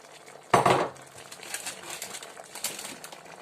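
Potatoes tipped into a pan with frying homemade sausage and tomatoes: one loud clattering thud, then a faint ongoing sizzle with small scrapes and taps, no voices.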